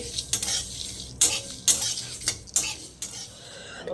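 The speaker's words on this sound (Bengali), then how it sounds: "এই মশলাটা এখন ফ্রাই করছি" Spice mix for fuchka frying in a pan, with a utensil repeatedly scraping and stirring against the metal in irregular strokes over a light sizzle, close by.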